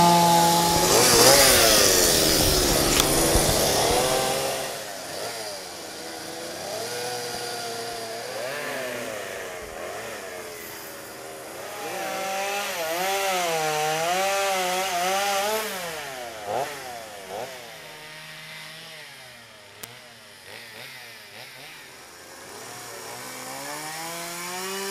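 Chainsaw carving wood at a Pigeon Forge, Tennessee wood carving shop, a loud buzzing saw engine revving and easing in waves close by, steady throughout.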